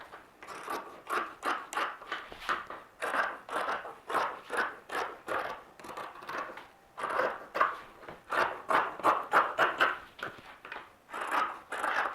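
Scissors cut fabric along a dress pattern with a quick run of crisp snipping strokes, close and clear, grouped in short bursts with brief pauses between them.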